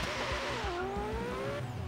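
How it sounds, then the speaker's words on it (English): A Porsche 959 spins its tires in a burnout during a racing game, the engine revving with a steady squealing whine that sweeps down, loud and continuous. "Little bit more wheel spin, or burnout, I should say."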